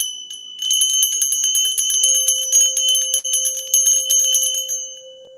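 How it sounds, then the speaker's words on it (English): A hand bell rings loudly and close, struck in quick repeated strokes that give a bright metallic jangle with a sustained ringing tone, then fade at the end. "Gonna ring the bell."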